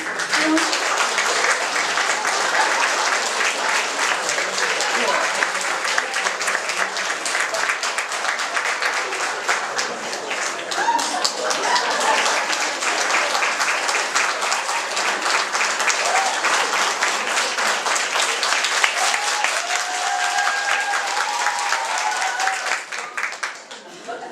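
Loud, sustained applause from an audience for a male quartet at a Women's Day concert, dense clapping continuing steadily for the whole stretch with a few voices mixed in.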